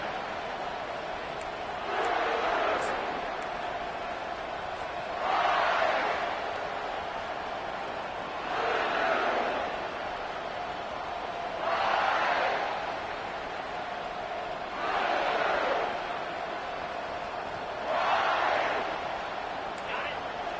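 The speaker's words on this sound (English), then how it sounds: "this crowd is fired up. Listen to this noise here" A fired-up stadium crowd roars at a Baylor vs Kentucky college football game, swelling in waves of noise every few seconds while commentators talk over it.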